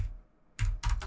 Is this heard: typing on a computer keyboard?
yes